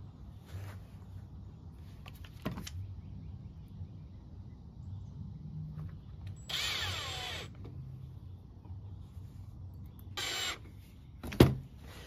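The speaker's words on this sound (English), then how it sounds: "just take these little tiny plastic screws it comes with, and just screw it right to the pedal" Small plastic screws driven into an EZGO golf cart brake pedal while fitting a light kit, with short, faint bursts of a tool whirring spaced apart over a low steady background.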